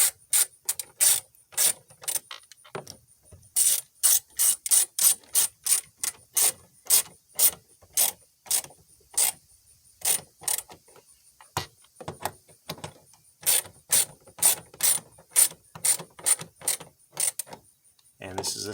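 A ratchet driver clicks in quick, regular bursts, tightening long 10 mm screws into the aging plastic door panel of a 2001 Nissan Sentra during a passenger window regulator motor replacement. The ratcheting is close and crisp, with short pauses between runs.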